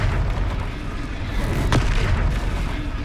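A Confringo blasting spell explodes in the game Hogwarts Legacy, giving a booming blast with a sharp crack partway through, heard over dense rumbling battle noise.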